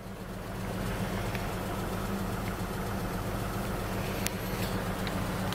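A 2000 Ford Ranger XLT 4x4 engine idles steadily, a low continuous hum with no talk over it and a few faint ticks near the end.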